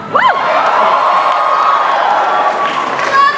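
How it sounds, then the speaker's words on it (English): Crowd at a Comic-Con panel for Breaking Bad at San Diego Comic-Con 2012 cheering and whooping loudly throughout, a dense sustained roar with a short high whistle or shout near the start. "It's an easy rise out of the crowd, Jesse Pinkman."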